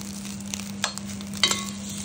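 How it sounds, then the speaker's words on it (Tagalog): Egg fried rice made with white and brown rice sizzling in a pan, a steady quiet frying hiss with a few light stirring clicks and scrapes, close and without talk. "So kaya ang niluluto ko ay egg fried rice."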